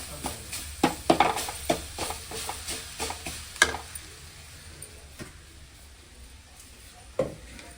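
Potatoes sauté in a pan, with a soft sizzle under a series of sharp spatula stirs and scrapes that come close together early on, then thin out to a few isolated knocks over quiet frying.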